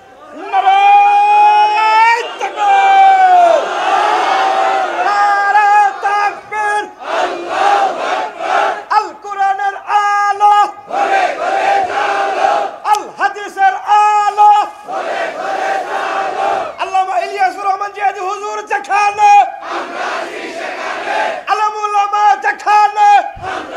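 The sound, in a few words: crowd shouting takbir (Allahu Akbar) at a sermon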